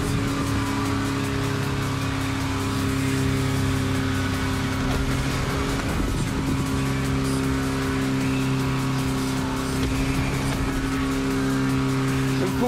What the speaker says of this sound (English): Let's push that good old Type 2 engine to its absolute limit.